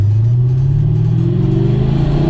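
A 2016–2024 Camaro SS with a forged LT1 V8 and fueling upgrades driving, its engine drone loud and close from inside, pitch rising smoothly as it gently accelerates, with no voices.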